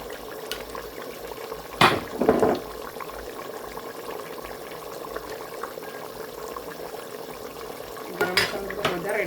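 A spoon mixes garam masala into desi chicken in a pot. Sharp clanks against the metal come near the start and again toward the end, over a soft, steady bubbling in between.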